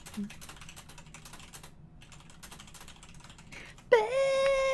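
Someone types on a computer keyboard, giving quiet clustered key clicks at a near distance with faint voices under them, and a loud tonal tune cuts in near the end.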